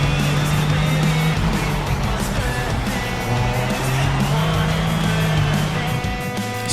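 Race cars roar around Monza in Project CARS, a dense, continuous engine drone with rising and falling pitch as several cars run close together at speed, loud and steady for several seconds.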